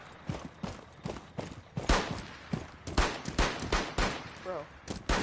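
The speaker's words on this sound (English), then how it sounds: "Bro, I'm shooting." Gunfire in Rainbow Six Siege, repeated sharp close shots in short irregular bursts throughout, with faint voices in the background.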